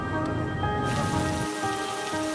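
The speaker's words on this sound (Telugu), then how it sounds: "ఆ రాత్రి భారీ వర్షం పడింది." Heavy night rain in an animated cartoon pours steadily, a dense even hiss of drops spattering on surfaces, alone and fairly loud, shifting slightly in tone partway through.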